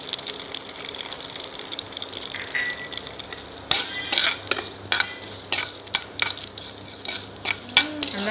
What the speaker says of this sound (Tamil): கடுகு பொரிஞ்சோன்னே நல்லா பொரிய வைக்க வந்துட்டு பாருங்கள்